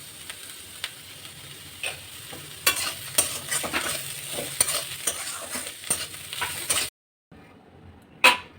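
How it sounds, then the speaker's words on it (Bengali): Spices frying lightly in a pan with bitter gourd peel, a soft steady sizzle under repeated scraping and stirring clicks, then a brief pause and one sharp clatter near the end. "দেখুন মশলাটা আমার হালকা ভাজা হয়ে গেছে"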